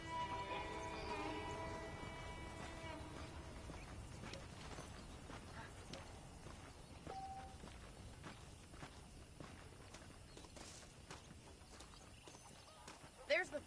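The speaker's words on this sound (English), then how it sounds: "The horses are saddled up over here" Horse hooves clip-clop at a steady walking pace, with faint ambient sounds underneath and a brief knock near the end, from the video game Red Dead Redemption.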